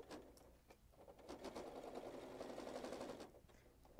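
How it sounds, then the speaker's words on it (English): A sewing machine stitches through a thick stack of fabric layers for a reversible placemat, giving a dense, steady rapid clatter that runs loud for most of the stretch before slowing and trailing off near the end. "The machine is making a little more noise than normal right now because I'm going through a ton of layers of the fabric."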